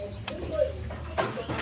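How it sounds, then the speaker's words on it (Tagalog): Pigeons coo softly in a backyard loft while a person talks over them, the low murmuring calls faint and partly masked by the voice. "ipapakita ko nga rin po pala yung mga iba't iba nilang kalapati dito"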